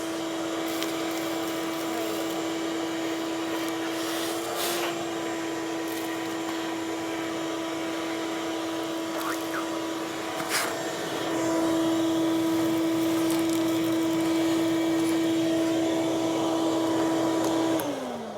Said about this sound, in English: Let's clean that up with the thing. Vacuum.